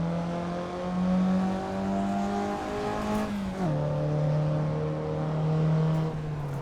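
Mazda Miata engine in Assetto Corsa, with a loud, steady, buzzy note that swells under throttle and drops in pitch near the middle, then holds a high drone while the car slides in power-on oversteer.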